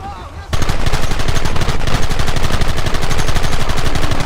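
Rapid automatic gunfire crackles in Red Dead Redemption, a dense, loud, continuous burst of shots that erupts suddenly after a brief quieter moment and keeps going without pause.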